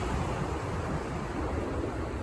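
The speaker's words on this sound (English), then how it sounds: "Look at those waves." Ocean waves roll in on the shore as a steady, moderately faint wash of surf noise, with a soft roar and some wind in the background.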